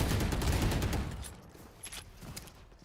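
Sheriff pistol shots in a Valorant tournament match come as a fast, dense burst of gunfire that thins into a few scattered single shots, with match noise behind them.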